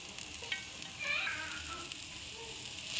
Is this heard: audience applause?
no